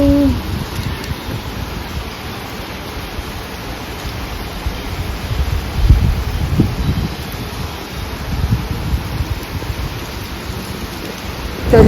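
Heavy rain and strong wind roar through a storm in a steady, dense wash of noise close by, with gusts swelling now and then and no voices.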